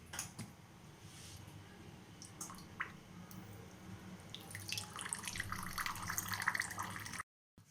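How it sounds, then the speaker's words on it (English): Water flowing from the valve of a Kent RO water purifier, a soft trickling, dripping stream that grows fuller and splashier toward the end before cutting off abruptly. "when we rotate the screw of the valve in clockwise direction, the water flow is reducing."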